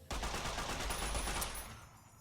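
Rapid automatic gunfire from the post-apocalyptic game Fallout's Wasteland Weekend rattles in a dense continuous burst for over a second before trailing off, fairly quiet overall with no talk over it.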